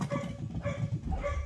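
Rapid, close dachshund barks come in quick, overlapping bursts through the whole moment, a busy, yappy volley with no pauses and no talk.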